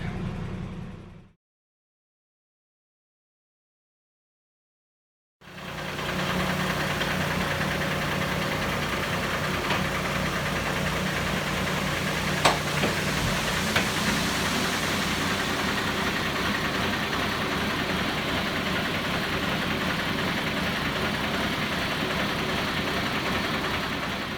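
A truck fully loaded with grain idles steadily before pulling away, its mid-pitched engine rumbling continuously and close by after a brief silent gap at the start, with no talking.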